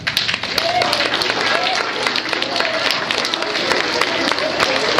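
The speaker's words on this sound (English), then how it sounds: "You guys deserve a round of applause" Audience applause after a performance of dancing, singing and storytelling, steady broadband clapping and crowd noise filling the whole stretch, with voices mixed in underneath.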